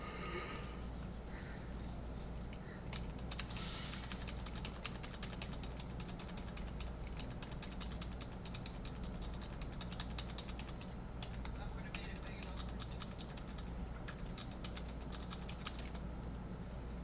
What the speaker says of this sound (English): what you guys hear is me pressing R on the keyboard really quick